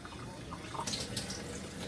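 A thin stream of water trickles briefly from a tap into a tablespoon, soft and close, with no talking.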